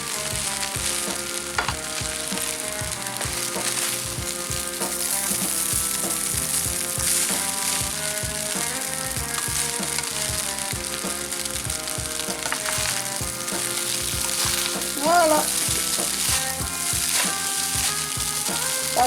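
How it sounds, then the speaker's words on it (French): Fried rice sizzling and crackling steadily in an oiled pan, loud and close, with occasional stirring scrapes throughout and one brief word spoken near the end. "Vous entendez le bruit, c'est bien du riz sauté."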